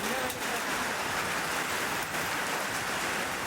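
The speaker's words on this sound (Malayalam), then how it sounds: "ഈ പൊള്ളുന്ന ചൂടിൽ ഈ മഴ കാണുമ്പോൾ ആകെ ഒന്ന് കുളിരുകയാണല്ലേ?" Summer rain falling in a hilly region during a heatwave, a steady, even hiss of rain over the whole stretch, moderately loud and uninterrupted, with no voices.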